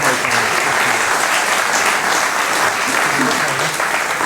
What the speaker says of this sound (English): Maybe we'll give them a round of applause.